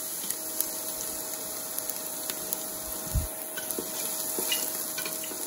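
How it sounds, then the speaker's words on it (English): Onions sauté in a pot for butternut squash and chickpea soup, giving a steady soft sizzle with occasional clinks and a stir of a utensil, no voice present. "Saute that around, let that saute."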